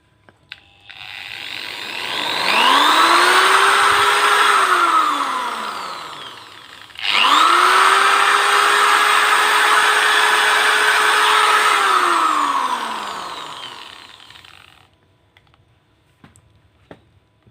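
An electric drill powered by a homemade 220-volt inverter runs twice, each time spinning up, holding a steady high whine for several seconds, then winding down to silence.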